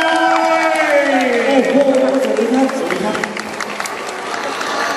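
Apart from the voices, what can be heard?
audience applauding to welcome a speaker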